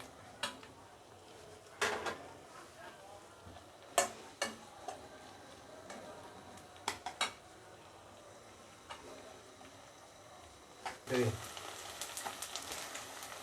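Onions sizzle softly in oil at a low, steady level for a beef curry, broken by several sharp clicks and clanks of a spoon against the pan.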